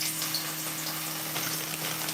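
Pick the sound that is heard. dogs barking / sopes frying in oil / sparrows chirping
sopes frying in oil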